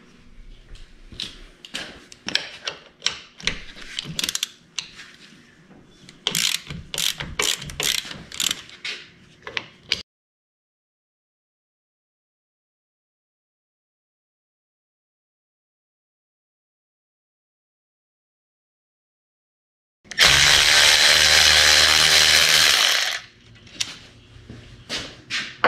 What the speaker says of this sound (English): I'm going to take the bolts loose to the tail end.